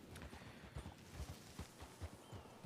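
Wild horses gallop through the open country of Red Dead Redemption (RedM), a string of soft, uneven hoof thuds at a quick pace, faint and somewhat distant.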